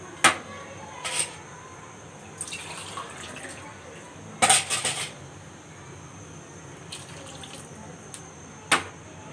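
Water is poured from a glass into a cooking pot of pea pulao, coming as a few short, splashy bursts with faint clinks between them over a quiet kitchen background.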